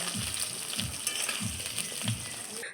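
Cut potatoes sizzling in hot mustard-oil-style frying oil in a kadai with black cumin, a steady crackle with soft repeated stirring scrapes, close and moderately loud, no voices.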